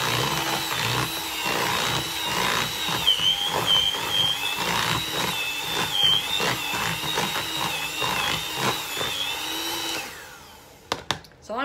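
Cooked chicken being shredded with an electric mixer in a kitchen, a steady whirring motor with rattling, churning pulses for around ten seconds before it cuts off, followed by a few clunks.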